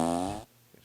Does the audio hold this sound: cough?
no